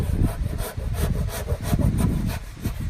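Body filler is shaved off a car fender where it bulges past the surface. The rasping strokes are loud, steady and continuous, heard close up and with no speech.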